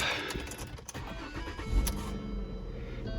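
The engine of a 2011 Lincoln MKZ cranks and catches in a brief starting burst, then settles into a quiet, steady idle.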